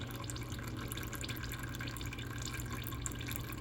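Transmission fluid drains steadily from a Toyota RAV4 during an ATF change at 30k miles, a continuous low trickling and dripping stream heard up close, with no talking over it.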